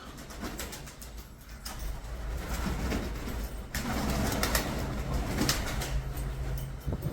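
Pigeons coo in low, soft, repeated calls, some close and some farther off, over light outdoor noise with an occasional rustle of wings.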